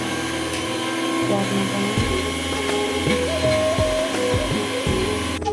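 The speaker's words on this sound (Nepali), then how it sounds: "मसला पिसाउँदैछ।" An electric grinder whirs steadily while grinding spice masala paste for biryani, its motor pitch rising and falling in close, loud surges with brief dips as the load shifts.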